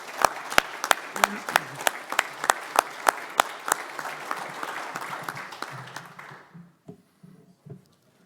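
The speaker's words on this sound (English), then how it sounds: "let's give Eric a round of applause for serving for those 2 years" Conference audience applauds in a lively burst of sharp, evenly spaced claps that thin out and fade to a few scattered claps near the end, with no talk over it.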